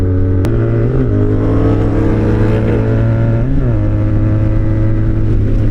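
A Mize 1000 sport motorcycle engine revs loudly and steadily close by, its pitch rising and dipping through several throttle swells.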